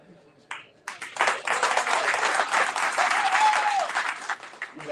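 Audience applause at a sales and marketing event starts after a short pause and swells into loud, sustained clapping from a sizable crowd, with a brief voice and a faint whistle mixed in.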